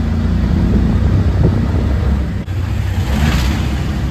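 A tuk-tuk's small engine revving steadily close by on a street in Fort Kochi, a continuous buzzing drone with a brief dip near the middle before picking back up.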